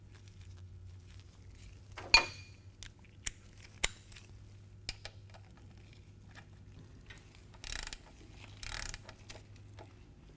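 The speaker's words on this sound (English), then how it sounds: "I like to start it by hand and then snug it up with my socket wrench" A socket wrench with a 5/8 inch socket snugs down the primary drain plug, fitted with a new O-ring, on a Harley-Davidson motorcycle: a few sparse, close ratchet clicks and small metallic taps in a quiet workshop, then brief scraping rustles.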